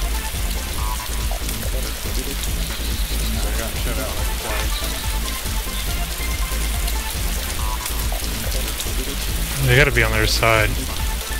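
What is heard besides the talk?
rain in a video game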